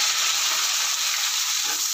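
Half a kilo of onions sizzle steadily in a hot pan without added water, a constant bright frying hiss with occasional faint stirring sounds.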